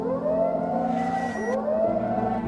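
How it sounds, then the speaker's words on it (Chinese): An alarm siren goes off in the Slendytubbies horror video game, two rising and falling electronic wails in a row, steady and alone. "就在这时，一旁的警报器响起"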